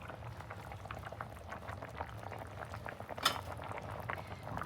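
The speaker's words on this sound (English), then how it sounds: "we've been cooking the beans for 35 minutes, so let's uncover it and see what we got so far" Lima beans simmering in a covered pot, with a soft, steady bubbling and gurgling that continues throughout, plus one brief clink of a lid or utensil near the end.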